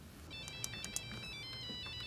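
A cell phone ringtone plays in an office setting, a bright repeating electronic melody with quick tonal beeps, moderately loud and alone without talk.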